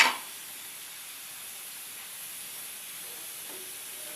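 Tomatoes fry in a pan with a steady, faint sizzling hiss that holds evenly throughout, with no talk over it.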